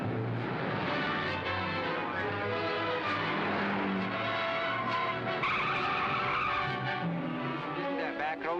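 A taxi in a 1940s film races through a car chase, engine roaring and tires squealing and skidding loudly throughout, with music and dialogue running underneath.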